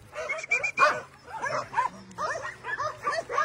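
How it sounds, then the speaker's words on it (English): Several dogs out on a walk give quick, close yips, whimpers and short barks in an excited, irregular burst, with a faint voice in the background. "Beautiful dogs."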